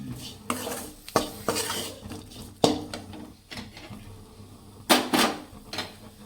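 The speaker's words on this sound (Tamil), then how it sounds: "அடுத்து தேங்காய் வறுத்து பேசி விட்டுட்டு இப்படி தான் எல்லாத்தையும் போட்டு நல்லா வணக்கி எடுத்துக்கணும்" Roasted coconut and other ingredients for brinjal curry are sautéed and stirred in a pan, with close scraping strokes of a spoon against metal at an uneven rhythm over a low sizzle.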